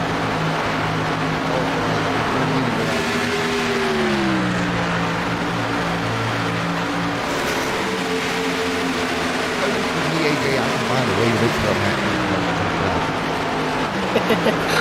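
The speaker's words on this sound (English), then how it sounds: "the engine noises were drowning us out" Race car engines in a racing video game drone and whine steadily, pitches rising and falling as the cars shift and accelerate, loud and continuous throughout.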